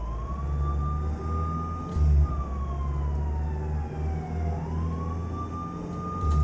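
A wailing vehicle siren in the video game Euro Truck Simulator 2 multiplayer sweeps up and down continuously over a steady engine drone, loud and close throughout.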